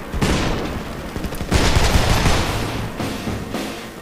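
Sustained automatic M4 rifle fire in a video game, a dense continuous fusillade with louder bursts around the middle and a brief lull before more shots, close and loud.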